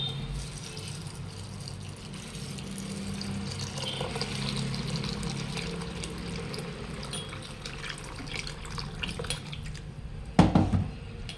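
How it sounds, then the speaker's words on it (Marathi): Sago pearls are washed in water, a steady wet swishing and rattling of the pearls against the bowl with drips, running continuously and close, with a louder clatter near the end. "तर तीन वाट्या ह्या तर आपल्याला आता स्वच्छ धुवून घ्यायचे साबुदाण्याला"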